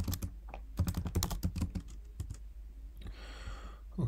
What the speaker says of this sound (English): type show IP version 6 interface brief